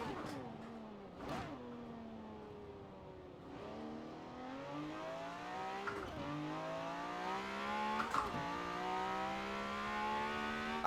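A Ferrari 250 Le Mans V12 race car engine in Forza Horizon 4 revs and climbs through gears, pitch rising in long sweeps with brief dips at shifts, loud and continuous.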